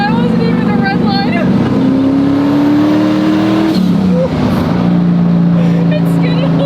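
An abandoned Superbird car, just revived from a barn, roars loudly and steadily as it drives, its engine pitch rising and then sliding down as the tires skid, with the engine staying loud throughout.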